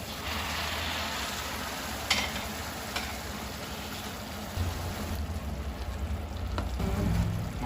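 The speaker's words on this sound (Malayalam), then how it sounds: "തിളച്ച വെള്ളം ഇതിലോട്ട് ഒഴിച്ചു കൊടുക്കാം കുറേശ്ശെ." Boiling water is poured bit by bit into masala frying for a Kerala egg curry, a close crackling sizzle with splashy stirring that swells louder toward the end.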